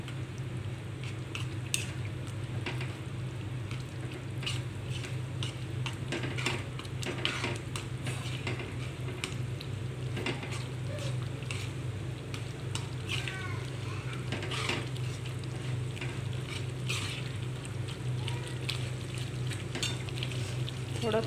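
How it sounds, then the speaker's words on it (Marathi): Ambadi (roselle leaf) bhaji with jowar flour is stirred in a cooking pan, a steady sizzle running throughout under repeated scraping and clinking from the spoon. "आता हलवून घेऊया, याला पूर्ण मिक्स करूया."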